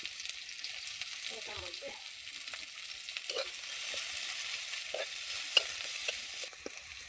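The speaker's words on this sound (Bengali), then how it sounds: "এই যে এখন আমি পেঁয়াজের কুচিগুলো দিয়ে দিলাম" Chopped onions fry in oil in a pan for a village-style fish curry, giving a steady hiss of sizzling with scraping and clinks as they are stirred, while someone talks quietly.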